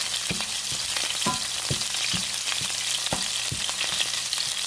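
Red onions sizzle and fry in a pan, a steady crackle broken by several sharp stirring scrapes and taps at irregular intervals, close and clear with no talking.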